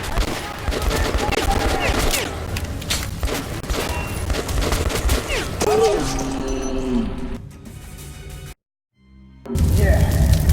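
Enemy machine guns fire in the shooter game Metro Last Light Redux, dense rapid bursts of gunfire mixed with other combat noise and voices, cutting out briefly near the end before resuming.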